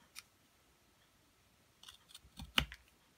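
Scissors snip folded paper in a few quiet, brief cuts, a lone click early on and then a short cluster of crisp snips near the end, with a slightly louder final cut, all against near silence.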